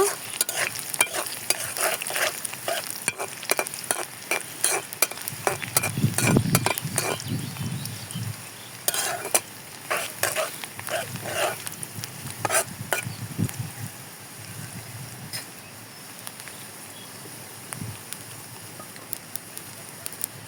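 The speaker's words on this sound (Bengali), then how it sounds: "এখন কাঁচামরিচ রসুন কুচি দিয়ে দেব পেঁয়াজ রসুনগুলো লাল লাল করে ভেজে নেব" Onion, garlic and green chilies fry in a pan while a spatula scrapes and stirs in quick, repeated strokes over a constant crackling sizzle, close and fairly loud, easing off toward the end.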